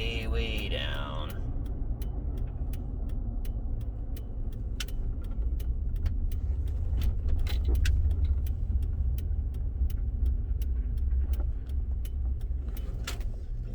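Chevrolet Silverado with a 5.3 V8 idling with an intermittent misfire, a steady low engine rumble running throughout with periodic sharp ticks, a faint whispered voice early on.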